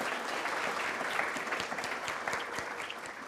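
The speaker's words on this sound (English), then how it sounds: "join me for a round of initial applause to this fantastic panel" An audience at a panel session on women's labour market participation breaks into sustained applause, dense steady clapping throughout with no talking.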